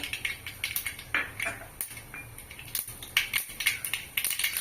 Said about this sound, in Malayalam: കടുകിട്ട് പൊട്ടി വരുമ്പോൾ